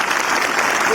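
Loud, dense applause fills a large assembly hall as the house claps in honor of the army, a thick sustained roar of many hands with no pauses.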